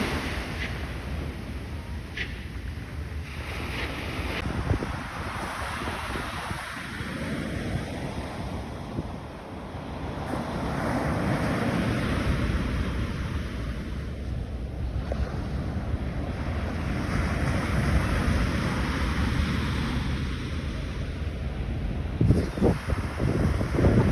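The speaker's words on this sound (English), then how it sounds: "I'll let you enjoy the ocean waves while I talk about the next topic" Ocean waves rolling in a continuous broad wash that swells and eases, heavy with wind buffeting the microphone, no voices present.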